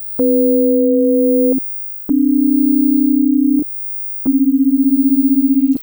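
Three sustained pure electronic tones sounding musical intervals other than the octave, each about a second and a half long and separated by short silences; the first holds two pitches sounding together, the others steady.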